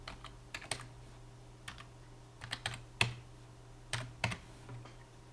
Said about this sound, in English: So you type escape X to tell Emacs to expect a command, and then Octave send region.